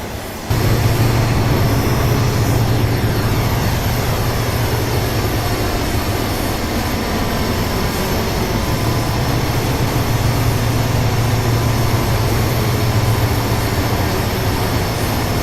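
An Amtrak train in Train Simulator rumbles steadily along the track with a loud, constant low drone and broad rushing noise that holds throughout without breaks or voices.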